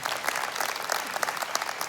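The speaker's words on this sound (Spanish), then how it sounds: "Denle un aplauso bien fuerte a nuestro Dios" A church congregation claps steadily, a dense and even round of applause from a large crowd that fills the room.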